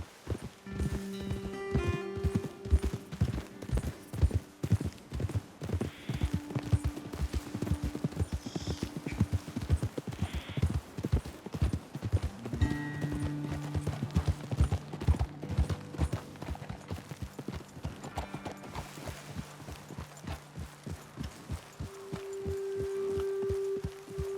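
Steady clip-clop of horse hooves walking at an even pace in the video game Red Dead Redemption 2, close and fairly loud, with occasional tonal game music or ambience in the background.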